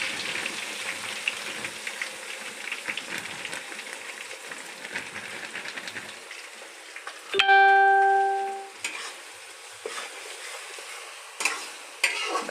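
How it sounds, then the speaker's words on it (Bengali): Grated coconut with green chillies is stirred and fried in a pan: a soft, steady sizzle with repeated scraping and tapping strokes, interrupted midway by a brief loud tonal beep before the stirring resumes. "নারকেলটা যতক্ষণ না লাল হবে ভালো করে নাড়াচাড়া করতে হবে।"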